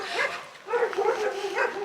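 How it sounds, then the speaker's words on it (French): Dogs at a horse facility bark and yip in short bursts with some whimpering, loud and close, over a steady background with no clear speech. "Pourquoi il y a des chiens? Vous faites trop de bruit!"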